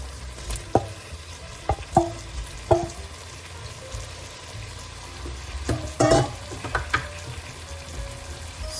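500 grams of prawns sizzle steadily in a pan, with irregular scraping knocks as a spoon stirs them, close and moderately quiet.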